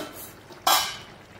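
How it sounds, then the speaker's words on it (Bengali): A spatula scrapes and stirs vegetables in a hot pan during home cooking, with a brief sizzle and a single sharp stirring burst partway through, close and fairly loud, with no talking. "একটু নেড়ে নেব।"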